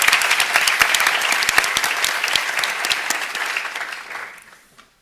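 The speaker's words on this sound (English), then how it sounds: "You can clap for her still," An audience claps at a medical diploma ceremony, with dense, lively applause sustained for several seconds before tapering off and fading out near the end.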